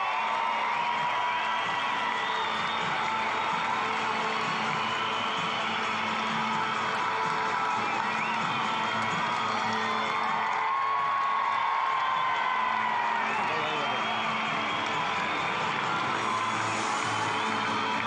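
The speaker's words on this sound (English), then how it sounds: "It wasn't so much about the race, it was about the crowd reaction." Racecourse crowd at Rosehill during a horse race, a dense, steady roar of cheering and whooping voices throughout, swelling slightly toward the end.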